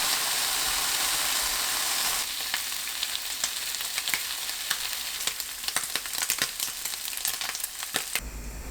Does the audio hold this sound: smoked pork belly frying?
yes